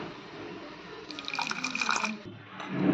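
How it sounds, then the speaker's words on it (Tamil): Water being poured into ground masala in a grinder jar before blending it to a paste for Dindigul-style mutton biryani; a soft, close trickle and splash builds in the middle and fades, with no voices. "இதுக்கப்புறமா கொஞ்சம் தண்ணி சேர்த்து நம்ம சாந்து மாதிரி அரைக்க போகிறோம்"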